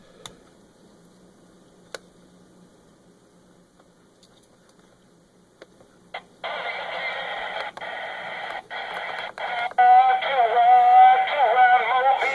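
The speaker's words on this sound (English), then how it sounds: "I've got it hooked up here on the bench, the old Antron A99, and the skip is actually rolling" CB skip traffic on a President Bill radio fed by an Antron A99 antenna: near-silent static hiss, then a burst of loud, distorted, crackly radio voices and squeals, under no nearby talk.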